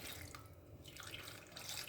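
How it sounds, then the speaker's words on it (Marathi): Water runs from a tap into a pot of washed jackfruit seeds as a continuous, faint splashing stream that lasts a couple of seconds, with no voices. "आता याच्यामध्ये थोडंसं पाणी घालूया"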